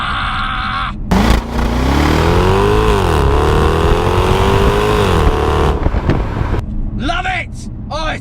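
Jaguar XKR supercharged V8 pulling hard in first gear, a loud, rising engine roar with a falling then climbing pitch sweep over about five seconds, followed by excited voices talking over the cabin noise.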